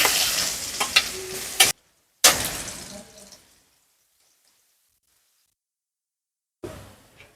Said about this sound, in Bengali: রসুন লাল লাল করে বাজা গেছে